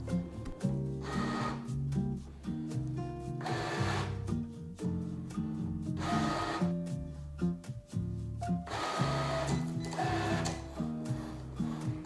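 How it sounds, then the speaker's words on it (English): A Cricut Explore cutting machine cuts out a small square, its motor whirring with stepped, shifting tones and periodic louder passes as the carriage moves, close and steady with no voices. "the machine is cutting out that little square that the website prompts you to"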